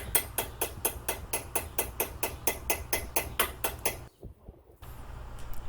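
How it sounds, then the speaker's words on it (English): Steady metallic hammer strikes on a Lexus IS F front brake caliper pin, about three per second, ring out close by for four seconds, then stop abruptly into a brief quiet before faint background noise returns. "Next, we're going to go after the top pin, once again with a hammer."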